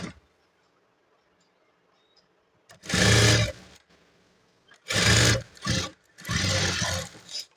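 A sewing machine stitches a blouse: after a quiet stretch, three or four loud, close bursts of rapid mechanical running, each stopping abruptly before the next begins.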